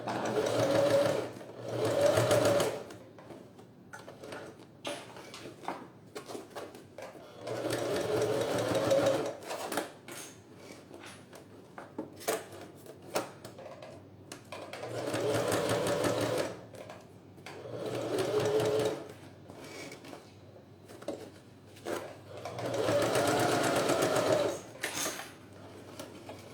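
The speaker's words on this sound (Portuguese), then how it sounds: "Vocês podem ir girando o volante da máquina aqui, ó, pra costurar." A sewing machine stitches a university bag in several separate bursts of steady mechanical whirring, each a few seconds long, with quieter pauses and light handling noises between them.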